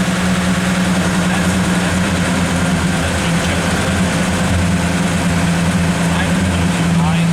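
A loud hot rod engine idles steadily and a bit high, a deep constant rumble close by, with people talking over it.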